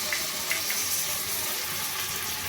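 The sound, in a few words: onions frying with tomato sauce and soy sauce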